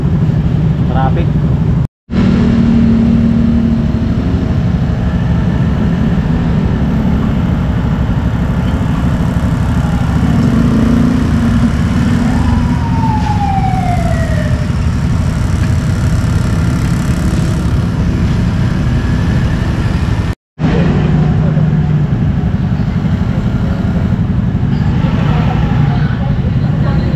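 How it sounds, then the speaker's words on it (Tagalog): Road traffic hums steadily with low car and bus engines idling and rumbling nearby, a continuous loud drone with voices talking over it. "Traffic."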